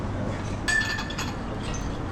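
A wine glass of Chenin Blanc gives one bright clink at a bar, sharp and brief with a thin ringing tail, over a steady murmur of background noise.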